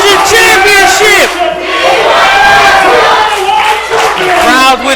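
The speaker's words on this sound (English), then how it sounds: "The crowd with the "We Want Tessa" chants." Wrestling crowd at a UCW Television Championship event chanting "We Want Tessa" in loud, rhythmic unison, the repeated chant rising and falling in waves close and full.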